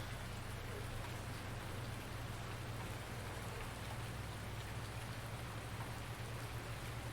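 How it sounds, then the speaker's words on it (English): Steady rain pours down in Farming Simulator 19 in an even, constant hiss, with a low droning hum running underneath the whole time. "Still raining."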